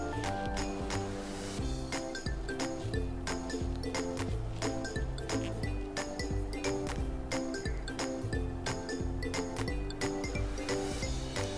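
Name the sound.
beating eggs and pouring omelette into oiled pan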